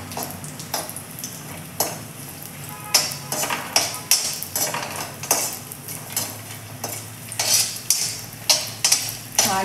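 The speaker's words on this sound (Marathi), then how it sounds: "आता या तुपावरती आपण हे ड्रायफ्रूट्स आहे ते भाजून घेऊयात चांगले" Dry fruits roast in ghee for laddoos, a gentle sizzle under repeated clinking scrapes of a metal spoon against the pan, close, rhythmic and steady with no voices.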